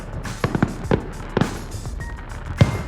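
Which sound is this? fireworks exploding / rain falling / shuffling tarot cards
fireworks exploding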